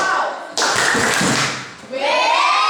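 A classroom of primary school pupils breaks into a loud burst of group clapping for a chant, dense and close, fading briefly before voices rise again at the end.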